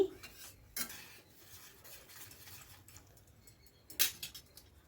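A spoon scrapes and clinks against a pot while fish curry with bottle gourd and potato is stirred, soft rubbing strokes with two sharper metallic knocks, quiet and close.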